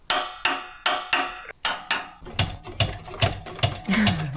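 A torque wrench tightening Land Rover cross member bolts gives a series of sharp, close metallic clicks, about a dozen in quick rhythmic succession, the later ones denser and mixed with ratcheting clatter.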